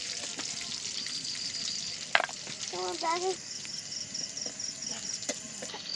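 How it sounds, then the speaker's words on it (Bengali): Whole garam masala, cumin seeds and dried red chillies frying in hot mustard oil in a kadai: a steady crackling sizzle with sharp pops and a few stirring clinks, close and moderately loud, while a rooster crows faintly in the background. "এবার তেলের উপর দিয়ে দেবো গোটা গরম মশলা গোটা জিরে আর শুকনো লঙ্কা"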